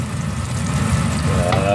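Garlic browns in hot oil in a pan, with a loud, close, continuous sizzle and crackle of frying.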